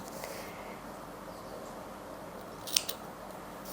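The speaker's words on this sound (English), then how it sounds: "I'm going to cut these so they are approximately the same length so that I can use my tapestry needle" Scissors snip the loose ends of knitting yarn, two quick close crisp cuts near the end over a quiet, faintly hissing room.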